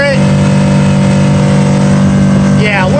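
A 2003 Scout 235 Sportfish center console boat runs on the water as its outboard engine climbs in revs, a loud, steady drone with a rising whine near the end while a person speaks over it.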